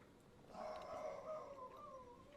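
A boxer dog named Roxy gives a drawn-out, faint vocalization from a distance in a yard, a single wavering bark-like howl that rises and then trails off over a couple of seconds.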